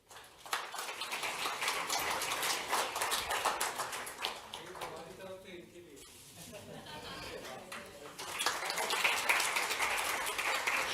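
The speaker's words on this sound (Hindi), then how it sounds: "एक बार जोरदार तालियां रोहित गांगवाल जी के लिए फिर से" An audience at an Indian diaspora event in Munich, Germany, gives a steady round of clapping. It dips briefly in the middle, then swells again, with someone speaking over it.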